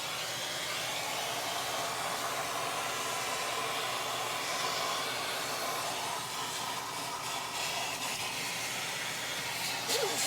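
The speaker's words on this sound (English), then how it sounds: "I get a smaller vacuum and a brush" A vacuum cleaner at an auto detailing shop runs continuously with a steady, broad whooshing roar that barely changes, a brief rattle near the end.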